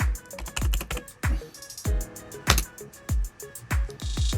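Typing on a computer keyboard: a steady run of crisp, close key clacks in bursts with short pauses, loud and clear with no voices.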